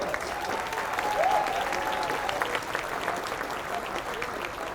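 A graduating class at a college baccalaureate ceremony draws audience applause, a sustained, moderately distant spread of clapping with a faint voice under it.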